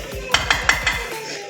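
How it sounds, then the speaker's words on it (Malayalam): A utensil scrapes and clinks rhythmically against a pan while date and tamarind pickle is stirred in coconut oil, four or five quick close metallic strokes at moderate volume. "നന്നായിട്ട് ഇളക്കി കൊടുക്കുന്നുണ്ട്"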